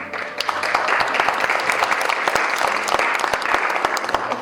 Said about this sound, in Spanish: Un aplauso al maestro.